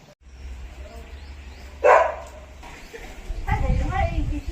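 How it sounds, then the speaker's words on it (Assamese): Dogs bark a few times nearby, a sharp bark standing out, followed by more yapping amid background murmuring voices. "এই কুকুৰকেইটা মুখখন বন্ধ কৰা অকণমান"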